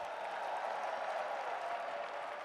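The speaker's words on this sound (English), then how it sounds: "Give a round of applause for Tyler and NRS for showing us out" Audience applause for Tyler and NRS at an EVO 2023 Top 6 esports watch party, a steady, fairly faint wash of clapping that holds evenly throughout with no talking over it.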